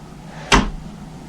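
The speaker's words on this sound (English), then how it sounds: "if I pull that, you can see the door shuts all by itself" A door swings shut by itself in its frame, ending in a single sharp close thud, brief and near, against a quiet room.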